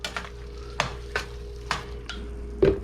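Thyme and sage being stirred into thick biscuit gravy in a pan: a series of soft, evenly spaced scraping strokes of a spoon, about six in three seconds, over a low steady hum.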